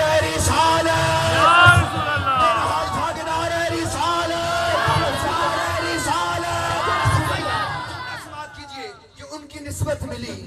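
A crowd at a religious gathering chants a slogan in unison in response to a leader, many voices loud and sustained, fading briefly near the end.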